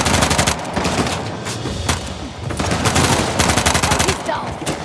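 Rapid turret gunfire in Uncharted: The Lost Legacy, dense automatic bursts loud and close, broken by brief pauses, with heavy ambient battle noise throughout.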